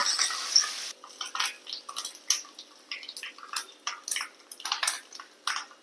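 Mustard seeds and fenugreek hit hot oil for a Kerala pumpkin pulingari, giving off irregular bursts of crackling, popping and spattering that flare and fade in quick clusters with no talking.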